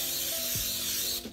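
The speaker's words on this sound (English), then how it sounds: "we'll go ahead and spray the pan to get it ready for that pancake" Cooking spray hisses steadily onto a pan for pancakes, a continuous close spray lasting about a second before cutting off, with a faint mechanical click within it.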